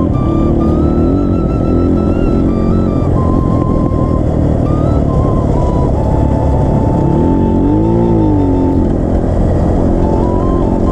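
A motorcycle rides off-road on a gravel track in the Rong area of Ilam, its engine loud and close throughout, rising and falling with throttle over a constant rumble of wind and road noise.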